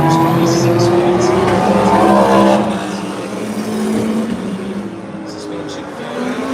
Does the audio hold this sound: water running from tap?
no